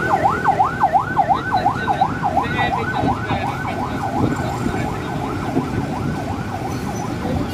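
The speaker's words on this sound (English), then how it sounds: "Emergency vehicle trying to get through." A wailing emergency vehicle siren sweeps up and down in steady repeated cycles in downtown Olongapo traffic, loud and close at first, then fading slightly, over a bed of engine and road rumble.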